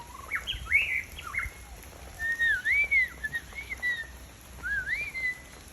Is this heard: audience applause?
no